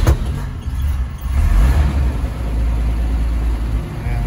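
The engine of a 1940 Chevrolet 1 1/2 ton stake bed truck idles with a deep, steady rumble close by, loud and unbroken with no voices.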